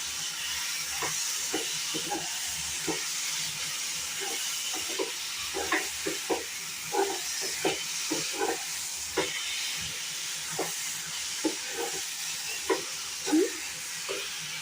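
Dry fruits fry in a pan while carrot halwa cooks. A steady close sizzling hiss runs throughout, broken by frequent small pops and crackles.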